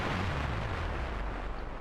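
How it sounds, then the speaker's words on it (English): An explosion effect from a movie music track, a loud, dense, rumbling blast that roars continuously for about two seconds with heavy low-end boom and no speech over it. "that's the explosion sound that we went with in the actual music track"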